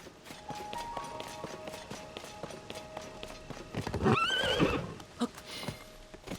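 The horse Bree gallops in the video game Tears of the Kingdom, with fast, rhythmic hoofbeats throughout. A loud, wavering whinny rises midway, and the hooves clatter on afterward.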